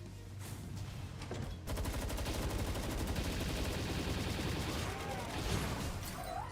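A Gatling gun fires in the video game Palworld, a rapid, continuous stream of closely spaced shots that starts abruptly and rattles on at a steady, loud pace.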